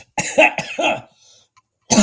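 A person in a live trading session gives a quick run of harsh, close coughs, goes briefly quiet, then lets out one more cough.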